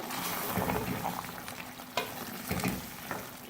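Chicken jalfrezi gravy sizzling and frying in a pan while a spoon stirs it, a continuous hiss broken by occasional scraping strokes, close and fairly quiet.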